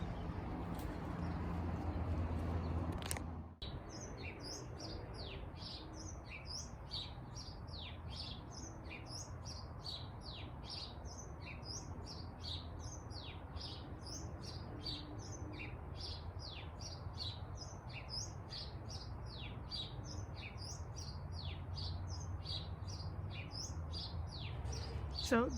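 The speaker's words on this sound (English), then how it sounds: "So this bird has been at this song for the past 2 minutes." A bird sings a loud, repetitive song of rapid chirps and trills that runs steadily and close for most of the stretch, following a brief louder noise at the start, in a garden with tomato plants.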